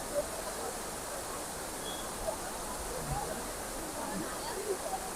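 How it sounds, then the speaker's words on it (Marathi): A waterfall at Khandala gives a steady, broad rushing roar that fills the whole scene without a break, with faint crowd sounds mixed into the wash. "आता हे बघा यांचा धबधबा"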